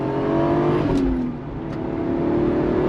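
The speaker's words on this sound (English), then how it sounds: "Love the sound of that straight six" A 1993 Toyota Supra's straight-six turbo engine hums and rises under throttle as the turbo spools, fairly close, with a brief dip partway through before the note builds again.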